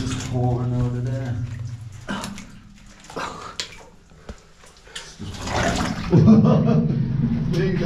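Water pours and splashes inside an old 1800s Welsh mine, a running, gurgling flow that swells and fades, with people talking over it.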